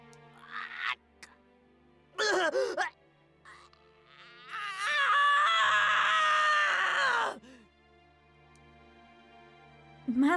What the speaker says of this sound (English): I hadn't heard him scream like that before.